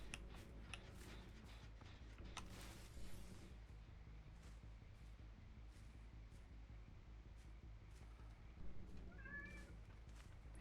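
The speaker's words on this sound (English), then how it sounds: "My cat's trying to get out." A house cat meows while trying to get out of a room, a few faint, drawn-out cries over quiet background ticking, with a louder call near the end.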